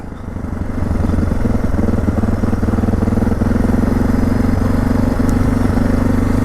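A Suzuki DR650 motorcycle engine runs steadily and loudly up close, its thumping single-cylinder rumble rising as throttle comes on and then holding an uneven, surging drone with no talk over it.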